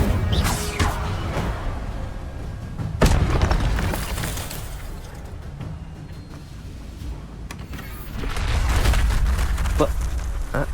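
Casting the Incendio fire spell in Hogwarts Legacy brings rumbling, booming blasts and crackling bursts over continuous game noise, with a voice heard among them.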